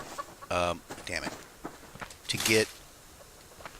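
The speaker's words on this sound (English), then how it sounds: "where'd the other chicken go? There's 2 chickens around here." Chickens clucking in the survival video game Subsistence, several short bursts of clucks close by, mixed with someone talking.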